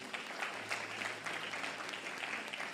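A church congregation applauds together during a sermon, a steady wash of many hands clapping at moderate volume, slightly distant and reverberant, continuing evenly for a few seconds.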